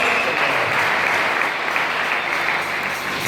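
A wedding congregation applauds in a steady, dense wash of clapping that fills the space evenly from start to finish, loud and sustained with no voices rising above it.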